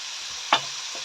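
Vegetables frying in a pan with squash just added, a steady sizzle broken by one brief scrape of stirring near the middle.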